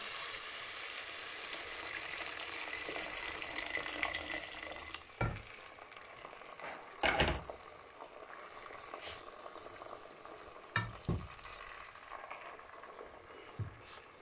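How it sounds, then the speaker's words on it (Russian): Water pours steadily into a cooking pot of stewed carrots and tomatoes for several seconds, a soft gushing hiss broken by a few clinks and knocks of cookware. "Сейчас я добавлю воды."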